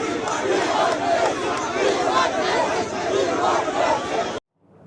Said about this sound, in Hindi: होटल के बाहर भी वी वांट मेसी के नारे गूंज रहे थे।